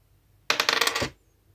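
A small hard object clatters and rattles across a surface in a quick burst of taps, lasting about half a second before stopping.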